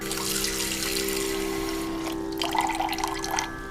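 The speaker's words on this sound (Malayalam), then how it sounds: "ഈ മിക്സിയുടെ ജാറൊന്ന് ഇത്തിരി വെള്ളം ഒഴിച്ച് കഴുകി ചേർക്കാം" Water sloshing and pouring as a mixer-grinder jar is rinsed, a steady splashy trickle close by with a faint hum beneath.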